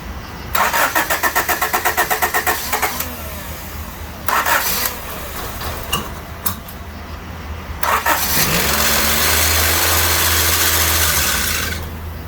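A 1988-91 Honda Civic engine cranks with rapid rhythmic chugging, catches briefly, cranks again, then starts and settles into a steady close idle.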